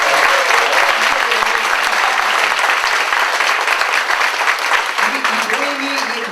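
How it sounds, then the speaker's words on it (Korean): A packed audience at a robotics panel discussion claps loudly and steadily, dense applause close up that carries on for several seconds without letting up. "자 박수 한번 좀 보내주세요."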